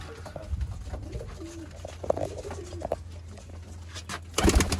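Pigeons from a prized kabootar-bazi flock in a Narowal setup coo softly and repeatedly nearby, with a louder rustling burst of wings near the end.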